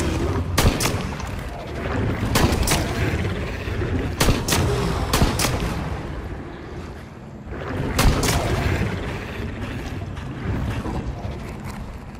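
Gunfire rattles through an underground tunnel in a shooter video game, with loud sharp bursts and volleys of shots repeating over a constant rumbling din.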